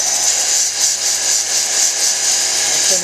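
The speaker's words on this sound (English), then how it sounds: "Sanding the back smoother on the 600." Steady whirring grind of a 600 grit wheel sanding the back of a chrysocolla cabochon, a continuous abrasive hiss with slight rhythmic swells, loud and close with no talk.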